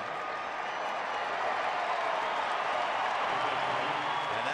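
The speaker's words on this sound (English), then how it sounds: "And now the crowd applauding as Juan Pierre takes over." A baseball stadium crowd at a Rockies–Braves game in Atlanta applauds in a steady, dense wash of clapping and cheering that holds for several seconds, with no nearby voice over it.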